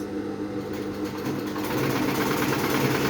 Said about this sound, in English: and I'll start sewing